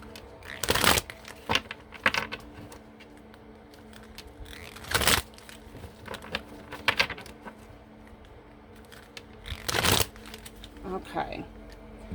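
Housewives Tarot cards are shuffled close by in several quick riffling bursts, each a crisp papery flutter lasting about a second, separated by quieter pauses.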